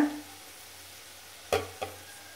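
Curry leaves and Kashmiri chili powder hit hot oil in a pan for a quick chicken curry, a soft steady sizzle broken by two sharp scraping stirs of a spoon near the end.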